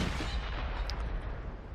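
A tank's main gun booms in a World of Tanks-style battle on the Erlenberg map as a Charioteer fires, one heavy low blast rolling out and fading over under two seconds.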